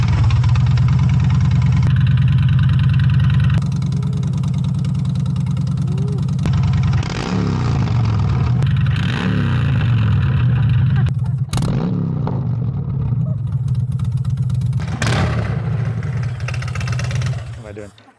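A Honda Fury motorcycle fitted with a 2-into-1 exhaust idles with a steady low rumble, punctuated by several sharp throttle blips and revs, then cuts off near the end.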